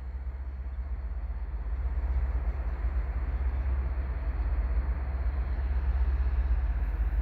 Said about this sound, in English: So it's got a long freight train